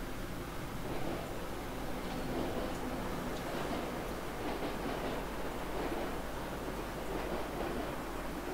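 Albula line train climbing slowly up a mountain, a steady broadband rumble and rattle with faint rhythmic clicks from the wheels, continuous and even throughout without pauses.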